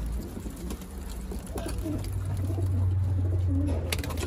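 Pigeons cooing outdoors, low repeated coos over a soft background of wind and distant ambient noise.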